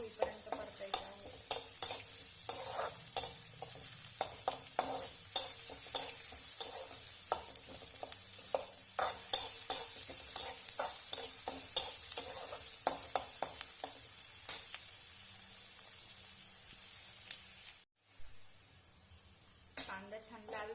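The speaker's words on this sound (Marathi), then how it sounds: "कांदा चांगला बारीक आणि लाल होईपर्यंत परतायचा आहे." Onion and curry leaves sauté in a pan for Maharashtrian-style potato bhaji, a steady close sizzle broken by frequent sharp scrapes and clicks of a stirring spoon, pausing briefly near the end before one more scrape.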